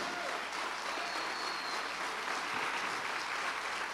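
A church congregation applauds, steady mid-distance clapping filling the room for the full length with no pauses.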